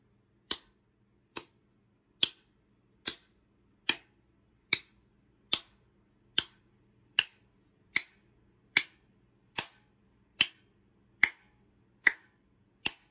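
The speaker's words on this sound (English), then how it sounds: "So let's clap our hands together." Sixteen sharp hand claps keep a steady, even beat about once every 0.8 seconds, each crisp and close against a quiet background, from a clap-along keep-the-beat game for kids.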